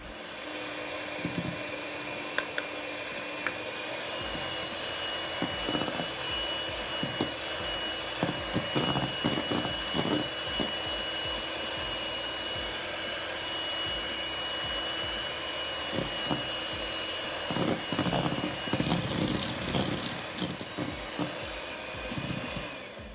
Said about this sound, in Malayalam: അത് കുറേശ്ശെ ചേർത്തിട്ട് നല്ലവണ്ണം ബീറ്റ് ചെയ്തെടുക്കുക.